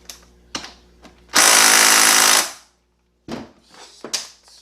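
A power tool spins out a transmission case bolt on a BGHA transmission from an Acura MDX during teardown. One loud, sustained burst of about a second is framed by scattered clanks and taps.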